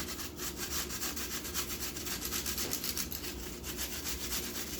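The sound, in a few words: apple being grated on a grater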